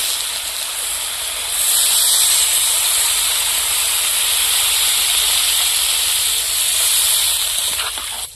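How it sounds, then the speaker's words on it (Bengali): Water poured into a hot pan of sizzling spiced cauliflower cooked with river datne fish, giving a loud, steady steam hiss that swells and holds for several seconds. "এবার জল দিয়ে দেবো"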